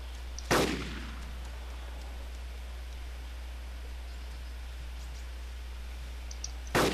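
Two sharp gunshots in a first-person shooter video game, one near the start and one at the end, separated by several seconds of quiet background hiss.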